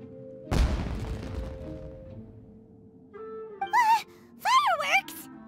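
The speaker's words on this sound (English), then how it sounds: "It sounded like fireworks." A single deep firework boom erupts in the Genshin Impact video game and fades with a crackling tail, followed by quiet and then brief exclamations from animated voices.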